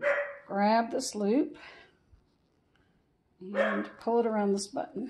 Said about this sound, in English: pardon my dog. I don't know what he barks at all the time.